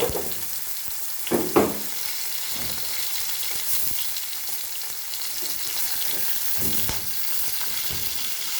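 Mustard and cumin seeds sizzle in oil over a low flame, a steady hiss with a few louder crackles and spoon stirs near the start, close and alone throughout.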